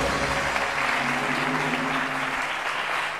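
A studio audience applauds on the Turkish quiz show Kim Milyoner Olmak İster?, a dense, steady burst of clapping that fills the whole moment without pause, close and fairly loud.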